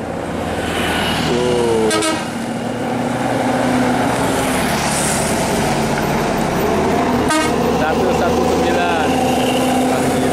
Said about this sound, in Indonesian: Nah mesinnya dari sini udah kedengeran cooler tuh